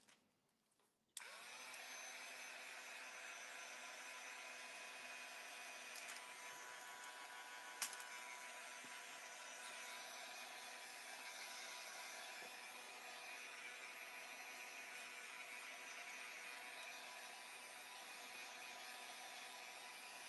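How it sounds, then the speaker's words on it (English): A heat gun switches on abruptly and runs as a steady, loud broadband whoosh with a faint whine, continuing unchanged for about twenty seconds with no talk. "Just gonna use my heat gun for a second."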